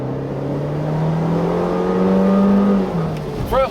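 A 2016 Buick Cascada with a 1.6-liter engine, front-wheel drive, accelerating hard: a loud, close engine note climbing steadily in pitch for about three seconds, then a quick shift and a short burst of revs, with no talk.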